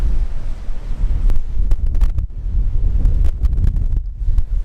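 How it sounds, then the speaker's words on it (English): Heavy coastal wind on the Isle of Skye buffeting the microphone, a continuous low rumble with gusty surges and crackling bursts throughout, close and loud. "Oh, windy."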